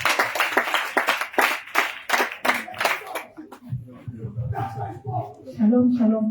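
A church congregation claps rhythmically and cheers, a close, busy run of hand claps that fades into a voice speaking.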